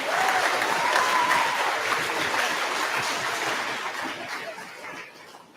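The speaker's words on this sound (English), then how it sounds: "Let's give Lily one final round of applause." Audience applause at a middle school awards ceremony, steady sustained clapping from a crowd filling a hall, holding strong for several seconds before tapering off near the end.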